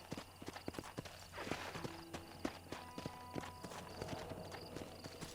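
Horse hooves clip-clopping at a fast gait in the Red Dead Redemption video game, a rapid run of sharp, close thuds over a soft ambient bed, with no talking.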